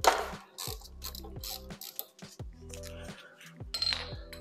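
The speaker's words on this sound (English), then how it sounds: "next you're gonna wanna loosen the brake pad pins. Just loosen, not remove yet." Metal tool clicks and ratchets on the brake caliper pad pins of a 2004 Kawasaki Ninja ZX10R sport bike, a run of close, sharp clinks and short grinding turns with pauses between.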